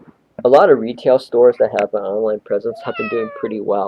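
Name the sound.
pet cat meowing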